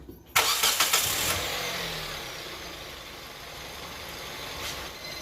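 A car engine cranks and starts, then idles steadily with a constant whirring, whining undertone from a faulty accessory drive belt.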